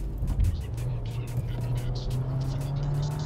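A Skoda Slavia 1.5 TSI sedan with a tall-geared manual pulls hard in second gear, its engine drone steady and loud as it climbs, with wind rushing over it.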